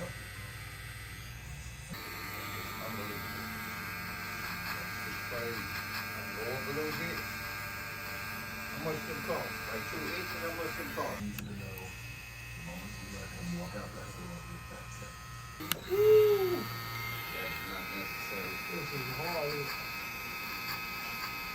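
A Babylisspro FX3 electric hair clipper runs with a steady, even motor buzz that holds throughout, while someone talks over it.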